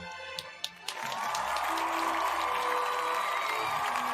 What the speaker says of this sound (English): Let me get you some applause going.